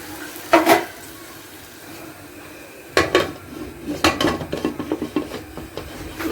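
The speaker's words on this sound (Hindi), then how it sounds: "चलो कुकर बंद करते हैं।" Metal clanks and clatters in a kitchen: a sharp double clang, a pause, then a run of rattling metallic knocks as a pressure cooker lid is fitted and locked over cooking daal.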